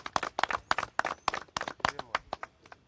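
Audience applause at a press briefing for a traditional ceremony, a run of sharp separate claps in an uneven rhythm that thins out toward the end, close and fairly loud.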